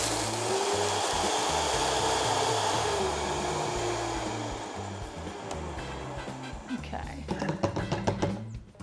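A kitchen blender runs on high speed grinding ingredients for a quick healthy meal, giving a loud steady whir that fades and then breaks into uneven rattling bursts near the end.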